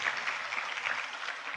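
Audience applause at an indoor sales networking seminar, a soft, even patter of clapping heard from a distance.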